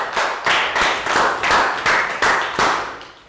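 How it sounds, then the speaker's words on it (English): Children in a classroom clapping for a pupil, loud, near, and in unison, beating out a rhythmic pattern of about eight bursts over three seconds. "Big round of applause for Nadia."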